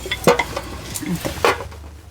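Puris deep frying in hot oil, a soft sizzle with a few sharp clinks of a utensil against the pan, close and fairly quiet.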